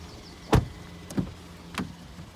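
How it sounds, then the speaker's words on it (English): Electric windows on a Peugeot 5008 1.2 PureTech GT Line Premium whir briefly three times inside the car, one louder motor run followed by two shorter, fainter ones, with quiet cabin between. "front electric windows and electric wing mirrors"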